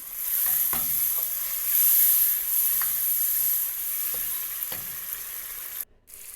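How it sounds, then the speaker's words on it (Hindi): Tomatoes frying in spiced masala for a tinda curry, with a steady close sizzle and faint stirring scrapes throughout, no voices, cut off briefly near the end. "अब टमाटर डालकर चंद मिनट में और इसको फ्राई करूँगी।"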